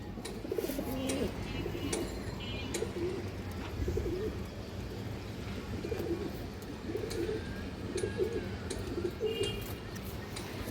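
Pigeons of several breeds, including silver pigeons, cooing repeatedly in a loft, soft rhythmic coos at moderate distance with light background noise.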